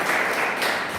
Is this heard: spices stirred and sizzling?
no